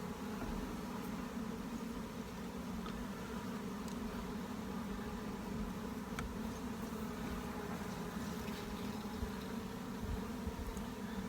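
Honey bees hum in a dense, steady drone at an open hive during an inspection, continuous and close, with faint clicks of handling on top.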